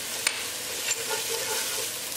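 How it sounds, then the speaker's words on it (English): Spices stirred into translucent frying onions in a pan: a soft, continuous sizzle with a few faint scraping clicks from the spoon, quiet and without voices. "Keep mixing while you are adding the spices."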